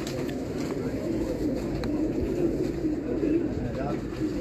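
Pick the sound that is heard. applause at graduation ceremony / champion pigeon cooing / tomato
champion pigeon cooing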